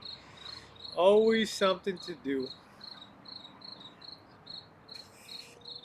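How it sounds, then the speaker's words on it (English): Crickets chirp outdoors at night in steady, evenly spaced pulses that carry on throughout, with someone talking briefly over them near the start. "Crickets are good luck,"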